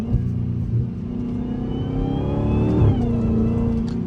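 Dodge Challenger Hellcat V8 with the stock intake fitted, revving up close by: a deep, loud rumbling engine that climbs smoothly in pitch and then drops back, with only a faint whine above the roar.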